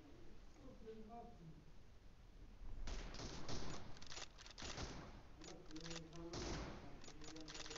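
M24 sniper rifle gunshots in PUBG Mobile during a 2v2 match: several sharp cracks in close clusters over game ambience, with someone speaking quietly in the background.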